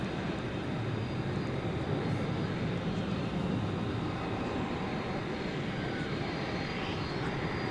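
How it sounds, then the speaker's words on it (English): Airbus A300 jet taxiing at an airport at night, a steady distant engine hum and rumble filling the air without any breaks or talk. "A300 has finally gotten itself unparked."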